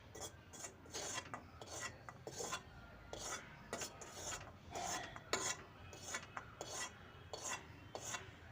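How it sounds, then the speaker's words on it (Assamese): A spoon scraping and stirring dry fruits, wheat and flour together in a bowl for homemade laddoos, giving a steady series of close, gritty rasping strokes with no talking. "মই এনেকৈ চামুচেদি ড্ৰাই ফ্ৰুটছ, গম আৰু আটা গোটেইখিনি মিলাইছোঁ।"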